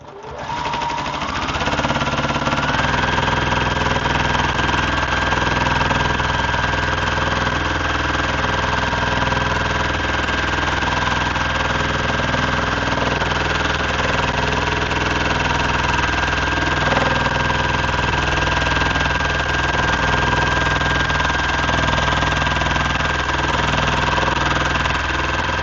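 Home sewing machine doing free-motion quilting: a loud, steady, close mechanical whir and hum that runs unbroken for the whole stretch, with no talking.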